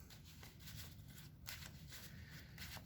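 A deck of trading cards is shuffled by hand, giving a steady run of soft riffling and flicking bursts, faint and close, with no voices over it.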